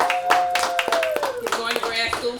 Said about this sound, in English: So can you give a round of applause?